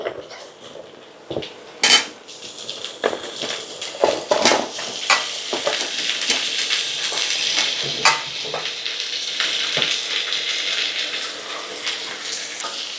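Chopped vegetables frying in a pan and stirred with a utensil: repeated metallic scrapes and knocks against the pan over a continuous, moderate sizzle, with no talking.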